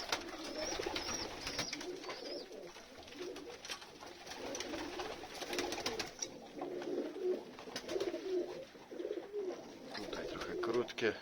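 Pigeons coo steadily at an evening feeding in a cold, windy loft, with repeated soft rolling calls and faint fluttering, while someone speaks quietly underneath.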